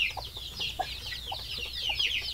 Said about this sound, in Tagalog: At dito naman meron tayong bagong pugad ng mga sisiw.